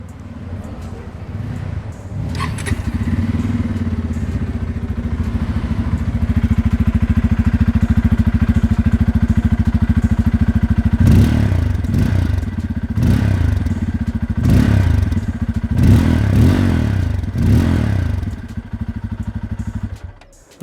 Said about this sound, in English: let's quickly make you hear how this motorcycle sounds